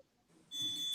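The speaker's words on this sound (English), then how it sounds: "We've got a fire alarm going off." A fire alarm sounds indoors as a single steady high-pitched electronic tone, starting abruptly halfway through and continuing loudly to the end over a muffled room background.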